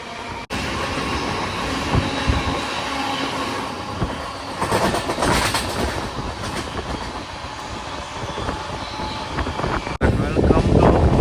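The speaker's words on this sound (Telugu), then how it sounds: "ట్రైన్ అయితే వెళ్ళిపోతూ ఉంటుంది" Madurai weekly special express train running along the tracks, heard from on board with a loud rumbling rattle, rhythmic wheel clatter and occasional squeals, with people talking over it.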